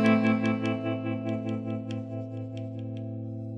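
A clean electric guitar chord whose volume swells and dips in a quick, regular pulse as the guitar's volume knob is turned up and down, imitating tremolo, ringing alone with no talk.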